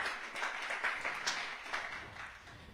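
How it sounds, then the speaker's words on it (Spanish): A church congregation applauds in worship, a lively wash of clapping and crowd noise that rises and falls over a few seconds. "Denle un aplauso fuerte al Señor"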